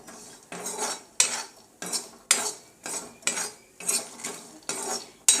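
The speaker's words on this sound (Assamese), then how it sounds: "সেয়া আমি এতিয়া বাদামখিনি ভাজি আছোঁ।" Peanuts being dry-roasted and stirred in a pan, with a spoon scraping and rattling through them in regular strokes about every half second, close and fairly soft, with no talk.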